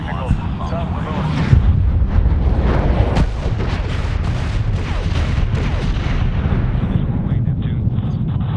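Cannon fire from an aircraft gunship in the 2010 Medal of Honor video game, a dense rumbling barrage of booming rounds over constant roar, with radio chatter from game characters throughout.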